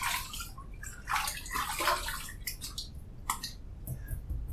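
Tap water running and splashing in bursts as handfuls are thrown onto a face while shaving, irregular close splashes and drips over a soft background hiss.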